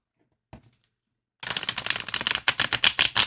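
Floating World tarot cards being shuffled, a short faint tap and then a rapid, close riffle of card flicks lasting nearly two seconds, with no talking.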